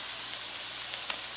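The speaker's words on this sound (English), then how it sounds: "we want to brown our beef, because you get that caramelization" Ground beef browns in a pan for a phyllo meat pie, a steady even sizzle with a faint hiss of steam and a couple of soft ticks, close and without talk.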